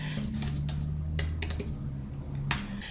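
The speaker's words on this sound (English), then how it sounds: "I'm going to type in the word welcome." Quick, uneven keystrokes on a computer keyboard, soft and close, with a steady low hum underneath and no talk.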